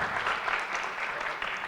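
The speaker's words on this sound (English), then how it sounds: "I taught you how to clap." A conference audience at a climate and gender dialogue claps together in a short, dense burst of applause that stays steady and moderately loud.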